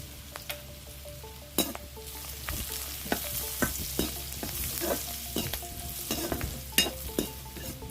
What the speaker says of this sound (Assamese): পিঁয়াজখিনি মই অকণমান ব্ৰাউন কালাৰ হ'বলৈ দিম, বহুত বেছি ব্ৰাউন কালাৰ কৰি নেপেলাওঁ